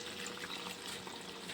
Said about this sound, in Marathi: आता शिजण्यापुरतं पाणी टाकायचं आहे याच्यामध्ये